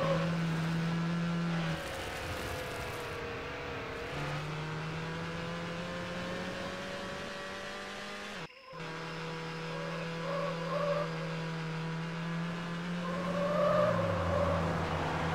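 Engine of a black BMW Z8 in the racing game Need for Speed: Hot Pursuit 2, a steady loud drone with shifting pitch through gear changes, a brief cut near the middle, then climbing revs toward the end.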